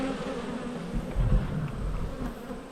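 Honey bees hum steadily around an open hive during an inspection, a dense, close buzzing that swells briefly near the middle and stays fairly loud throughout.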